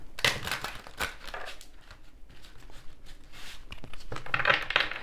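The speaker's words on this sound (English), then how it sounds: "Let's do some shuffling and see what we get." Tarot cards being shuffled by hand, giving bursts of crisp riffling and slapping card noise in several short runs, close and fairly quiet, with no talking.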